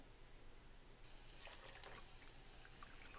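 Kitchen sink tap switched on in the video game Phantasmagoria, a steady stream of running water starting abruptly and continuing alone, close and fairly quiet.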